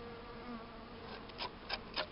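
Honeybees at a hive entrance on a mild winter day, a soft steady buzzing with a few louder passes of bees flying close, faint and with no talking.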